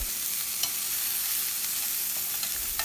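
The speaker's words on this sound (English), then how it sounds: "Mix all these ingredients very well and cook it for another 2 minutes." Bottle gourd chutney vegetables being stirred and cooked in a pan, a steady soft sizzle with faint scraping strokes throughout, no talking.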